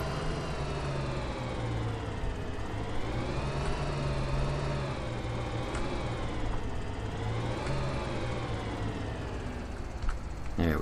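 A farm tractor engine in Farming Simulator 2013 drones steadily and loudly throughout, its pitch rising and falling gently as it revs, with no talk over it.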